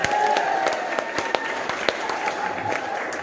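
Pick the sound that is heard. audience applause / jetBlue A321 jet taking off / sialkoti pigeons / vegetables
audience applause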